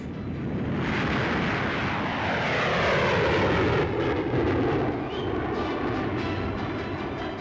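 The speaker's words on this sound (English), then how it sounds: "umont, chief test pilot of English Electric, pilots the latest version of the Canberra jet bomber, which is now going into production for the RAF." An English Electric Canberra jet bomber with two Avon gas turbines flies past at the 1950 Farnborough air show, a loud roar that builds and sweeps by with a falling whine.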